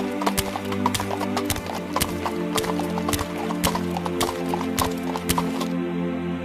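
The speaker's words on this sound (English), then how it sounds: "He put him on his donkey and took him to an inn where he could be safe and recover." A donkey's hooves clip-clop in a steady, even walking rhythm, crisp and close, as a sound effect in an animated children's Bible story about the Good Samaritan.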